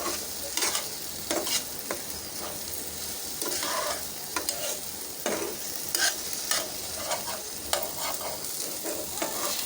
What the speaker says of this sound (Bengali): এখন এর মধ্যে দিয়ে দিচ্ছি একটা ডিম, ডিমটা আমি একেবারে ঝুরি করে দিচ্ছি।